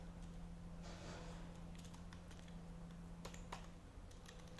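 Keys clatter on a computer keyboard as a gcc version command is typed into a command prompt, a quick run of faint, close clicks above a constant electrical hum.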